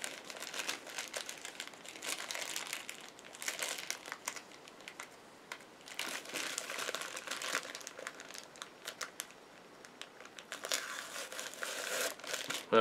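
Paper sticker crinkling and tearing as a My Little Pony Princess Luna tin box is opened, close and fairly quiet, with bursts of scratchy crumpling and ripping spread through the stretch and brief pauses between.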